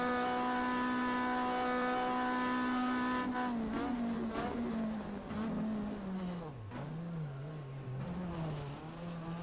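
A race car from the RACE 07 game runs off the track through grass and gravel, its engine droning at a steady pitch, then wavering and dipping as the tires rumble and crunch over the rough surface.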